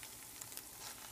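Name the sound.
frozen scrapple sizzling in a frying pan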